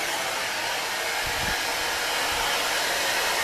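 Miele S8730 cylinder vacuum cleaner running on a floor with the rod extended, a steady broadband whooshing drone that holds at a constant level throughout, loud and close.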